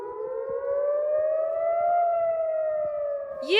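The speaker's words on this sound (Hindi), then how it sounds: "ये आवाज सिर्फ सायरन की नहीं है" An air raid siren wails across Jerusalem in a long, steady tone that rises slowly and holds, loud and sustained, with a brief burst of other noise at the very end.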